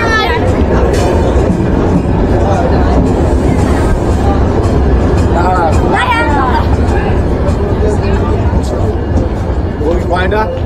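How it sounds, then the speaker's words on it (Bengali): Jahanabad Express train pulling into Lohagara railway station in Narail, a loud steady rumble with clattering wheels and squealing brakes, crowd chatter and voices underneath. "নড়াইলের লোহাগাড়া রেলওয়ে স্টেশনে পৌঁছে গেছে আজকের জাহানাবাদ এক্সপ্রেস ট্রেন"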